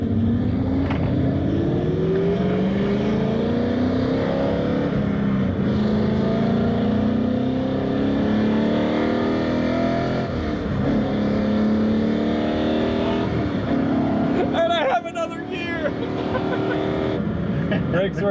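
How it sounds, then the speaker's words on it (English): A Ford Mustang being driven on the road, its engine droning and shifting steadily with a whining power steering noise running underneath throughout. "A little bit of power steering's making some noise."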